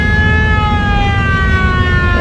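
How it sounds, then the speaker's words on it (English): A siren mounted in the nose of a train wails steadily and loudly at close range, its sustained tones holding nearly level and gliding slightly lower over a low rumbling background. "Here you can hear the siren going off on it."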